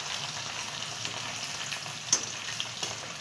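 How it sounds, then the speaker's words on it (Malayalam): Finely chopped garlic and ginger frying in oil in a pan while being stirred, making a steady close sizzle with a few light scrapes, and no talking. "നമ്മൾ അരിഞ്ഞു വെച്ച ഗാർലിക് ഇട്ട് കൊടുക്കാം. അല്പം ഇഞ്ചിയും ഫൈൻലി ചോപ്ഡ് ആയിരിക്കണം."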